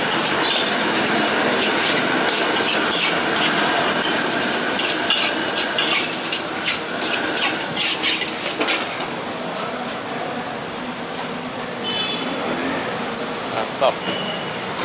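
Mie goreng noodles are stir-fried in a wok at an Indonesian street food stall, with steady loud sizzling and scraping stirring that runs throughout, along with clinks of utensils, busy background noise and people talking.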